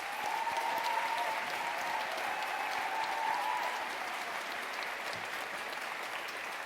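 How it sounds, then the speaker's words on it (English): Graduation ceremony audience at the Liverpool School of Tropical Medicine applauding staff and teachers, a sustained, even roar of many hands clapping from a distance, steady for several seconds and slowly easing. "So can we just put our hands together to applaud all of our staffs and teachers at LSTM for their great work."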